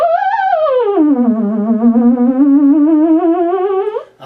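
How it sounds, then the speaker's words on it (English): A theremin trill wobbles rapidly as its pitch rises briefly, then sweeps down to a low note and holds there, quivering evenly before cutting off abruptly. "A trill, just descending, sounds like this."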